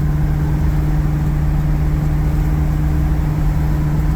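A 1965 Ford Mustang C-code with a 289 four-barrel V8 idles in a steady, even low rumble with a constant hum, close by and uninterrupted, with no talking.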